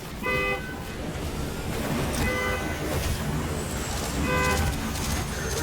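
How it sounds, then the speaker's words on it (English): Waymo self-driving cars in a parking lot honk at each other in three short double-toot bursts spaced about two seconds apart, over a steady rumble of idling engines and motor noise. "Waymo vehicles started driving in circles and randomly honking at each other"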